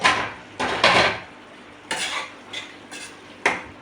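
Metal utensils clatter against a cooking pot as its lid is opened during kurma preparation, sharp clanks and scrapes in irregular bursts, close and fairly loud with quiet gaps between.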